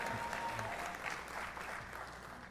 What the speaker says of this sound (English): give a little clap for Unika.